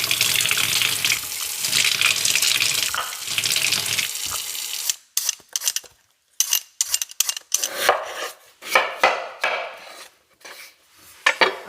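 Tap water pours steadily into a pot for boiling potatoes, a dense rushing stream for about five seconds, then stops, followed by scattered clanks and knocks of the pot and utensils.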